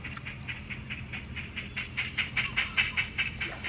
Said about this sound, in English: Completing its shunt, number 5 moves the empty coal wagons next to the coal barge to be reloaded